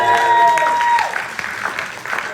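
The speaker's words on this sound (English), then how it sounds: "That's applause for not dying." Audience applause at a talk breaks out after a sustained tone fades, clapping spreading through the room for a couple of seconds at moderate level.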